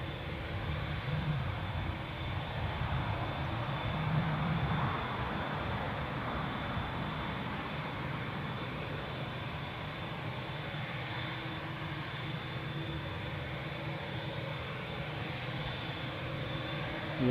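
An airliner at Newcastle Airport gives a steady, loud engine roar and rumble that holds evenly throughout, close and alone.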